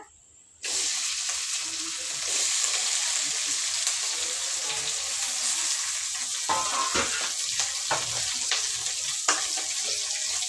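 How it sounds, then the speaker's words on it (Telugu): Chopped ivy gourd hits hot oil in a pan and fries with a sudden, loud, steady crackling sizzle, joined later by stirring scrapes and a faint voice in the background. "కొంచెం ఆయిల్, ముందుగా కట్ చేసి పెట్టిన దొండకాయ,"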